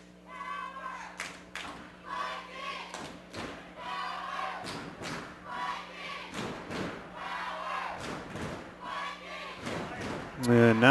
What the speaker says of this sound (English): And now the crowd begins to come alive a little bit here. Midway through the first half as the Vikings fans putting a cheer together